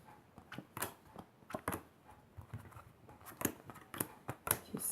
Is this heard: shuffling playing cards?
yes